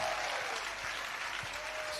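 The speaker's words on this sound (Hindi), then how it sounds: "अच्छी तालियां बजाओ" An audience claps steadily at a Hindi poetry recital, a continuous even wash of applause throughout.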